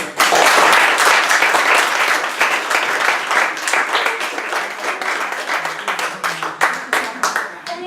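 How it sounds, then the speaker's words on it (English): Audience applause following an introduction at a book reading at an art venue in Provincetown, with dense clapping that starts loud and gradually thins, individual claps becoming more distinct toward the end, with faint voices mixed in. "So without further ado, let's give a round of applause."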